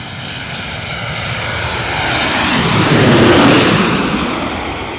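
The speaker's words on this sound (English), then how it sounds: "I just love that sound of the Boeing 737-800." Boeing 737-800 jet on approach over Queens, New York, a loud, steady engine roar that swells toward a peak and then eases slightly, heard alone with no voices.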